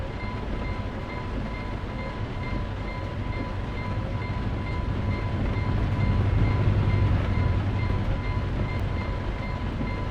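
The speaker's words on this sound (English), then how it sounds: "we got a train coming." A train rolls past in the trucking game Euro Truck Simulator 2, a steady rumbling clatter of rail wagons that swells slightly midway, heard alone with no talk over it.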